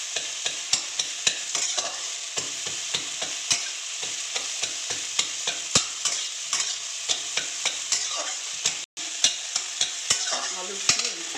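Eggs broken up and stirred with a metal spatula in a hot frying pan, close up: steady sizzling under a rapid run of sharp scraping taps, with one brief dropout near the end.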